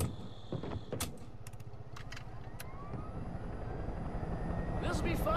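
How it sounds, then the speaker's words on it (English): A helicopter engine in the video game Far Cry 5 whines and hums steadily, building slightly louder, with a few clicks and a person talking over it. "I don't know how to drive the helicopter."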